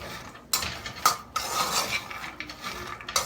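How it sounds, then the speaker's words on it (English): Peanuts being stirred while roasting in a pan give a run of dry rattling, scraping clatters of nuts against metal, with sharp bursts of stirring spaced between steadier rustling, close and fairly loud with no voices. "Stir it in between"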